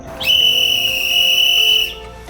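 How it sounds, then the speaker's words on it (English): A single piercing whistle blast, loud and sustained for about a second and a half, then cut off. "you might want to consider upgrading to a much louder whistle"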